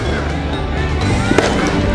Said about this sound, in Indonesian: warga Cali di Kolombia meluncurkan kembang api dan membakar boneka-boneka diiringi musik dan sorak-sorai di jalanan.